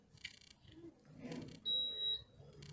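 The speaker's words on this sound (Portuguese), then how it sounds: "Vamos ligar, ver se vai dar o bip aqui" A washing machine control board powering up after repair gives one clear, high electronic beep lasting about half a second, set against quiet room noise and faint rustling.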